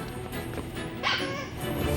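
A blind puppy barking and whimpering while out shopping: a few short, high yips and thin whines sound close against a busy, noisy indoor background.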